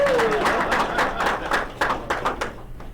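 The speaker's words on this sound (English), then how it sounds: "Bigger clap then." Applause from a small group at a Rotary Club lunch meeting, a burst of scattered hand claps that swells briefly and then tapers off over a few seconds, at moderate distance.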